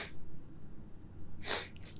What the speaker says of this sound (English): No, it's just sniffling.